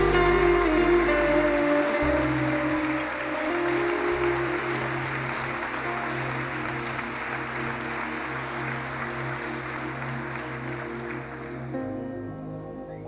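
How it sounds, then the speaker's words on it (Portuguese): A church congregation applauds loudly and steadily, a dense, continuous wash of clapping from many hands with a low musical drone beneath, fading slightly near the end. "ofereça a Deus o melhor de suas palmas"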